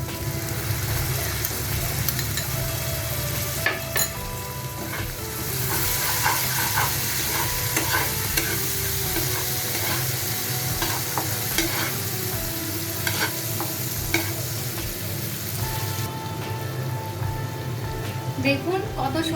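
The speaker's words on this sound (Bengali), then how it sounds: "কষানোর এ পর্যায়ে আমি বাদাম বাটা অ্যাড করে দিচ্ছি।" Masala with ground nut paste for katla fish kofta curry sizzles and fries steadily in a pan, with repeated scraping stirs throughout, loud and close.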